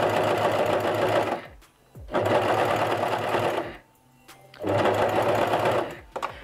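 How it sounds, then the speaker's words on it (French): A sewing machine stitches a bra under a transparent presser foot, running in three close, loud whirring bursts separated by short pauses. "c'est vraiment bien d'avoir le pied transparent quand même, parce qu'on voit vraiment exactement où est-ce qu'on coud."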